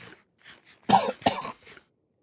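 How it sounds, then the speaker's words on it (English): A person coughing, a couple of faint throat sounds and then two loud, harsh close coughs in quick succession with silence between. "I'm still recovering from a cough, which I got from a cold."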